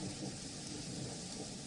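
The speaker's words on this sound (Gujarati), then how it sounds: "મહેસાણા ઊંઝા તાલુકામાં ધોધમાર વરસાદ વરસ્યો છે." A heavy downpour under dark clouds in Unjha taluka, Mehsana, Gujarat, makes a steady, dense hiss of rain throughout, fairly quiet overall, with no sharp thunderclap standing out.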